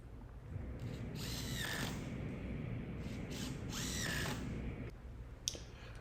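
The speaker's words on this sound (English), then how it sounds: "And here I'm just pre-drilling everything so that I can put in the additional screw." A power drill whirs in two short bursts, winding up and down as it pre-drills screw holes in wood for a patio table, with a low hum underneath.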